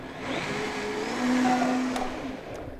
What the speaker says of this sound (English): I'm using a big time high engine blender here, the Vitamix.